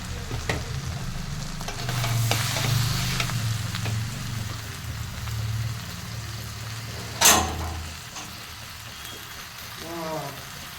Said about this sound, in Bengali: এবার চাউটা দিয়ে আলতোভাবে নাড়াতে থাকবো।